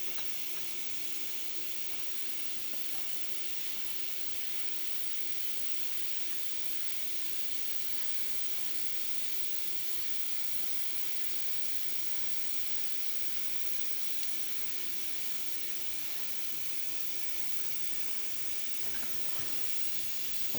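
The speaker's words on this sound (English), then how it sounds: "Check the steam. Nice strong steam." The steam wand of a freshly rebuilt La Cara espresso machine blows a strong, steady hiss of steam, broad and unbroken for about twenty seconds, with no one talking.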